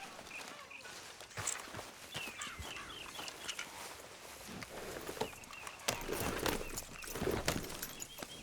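Horse hooves clip-clop at a walking pace in the Red Dead Redemption 2 video game, a steady rhythm of soft knocks with chickens clucking and birds chirping faintly in the background.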